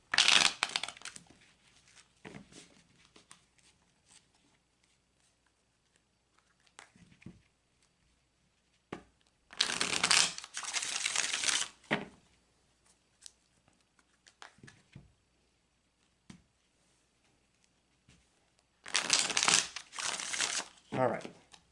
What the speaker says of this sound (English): I'm shuffling the cards with the question